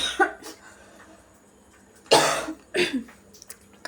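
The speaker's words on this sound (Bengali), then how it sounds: "কথা বলতে বলতে কাশি উঠে গেছে" A woman with a cold coughs twice indoors, a sharp harsh burst followed by a second shorter one, close and fairly loud, between a brief vocal sound at the start and quiet pauses.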